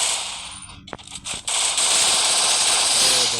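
Rapid automatic gunfire rattles in a shooting video game, loud and dense, with a short pause and a couple of sharp single shots before a sustained burst of fire.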